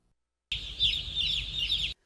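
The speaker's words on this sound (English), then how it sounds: "The barns are filled with birds at this Langley farm" A large flock of chickens fills a poultry farm barn in Langley with a dense, continuous chorus of chirps and clucks. The sound starts abruptly and holds steady at moderate loudness for about a second and a half, with no talking.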